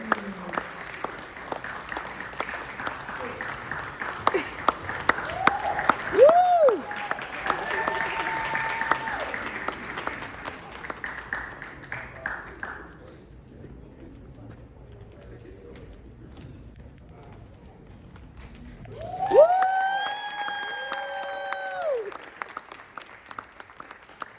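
At an award ceremony, an audience applauds a surprise award winner. The dense clapping is sustained at first, then thins out and fades to quieter scattered claps. A voice speaks briefly over it and again near the end.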